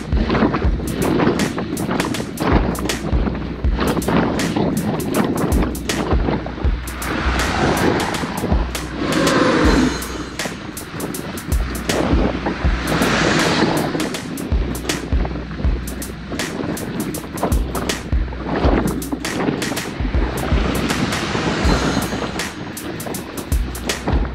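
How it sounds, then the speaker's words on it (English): Strong wind roars and buffets against the microphone while a road bike climbs hills on a group ride, with gusty low rumbling and sharp crackling bursts throughout, loud and continuous with no talk. "So we're dealing with the wind and we're going up these climbs."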